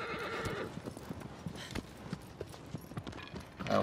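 Horse hooves clip-clopping in the video game Shadow of the Colossus, a steady trotting rhythm of hoofbeats throughout, with a whinny, moderately near over faint game ambience.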